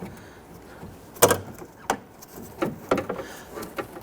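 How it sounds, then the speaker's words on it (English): Rear door latch unit on a 1992-1996 Toyota Camry pushed down by finger, giving a few sharp plastic-and-metal clicks and knocks at close range, spaced irregularly over a few seconds. "you want to put your finger in there and just push this door latch unit down"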